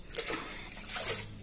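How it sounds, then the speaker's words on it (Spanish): Tap water runs into a dirty bucket for garden watering, a steady hissing splash of filling water, close and moderately loud with no speech. "Voy a agarrar solamente poquita agua para regar, el balde está mugroso"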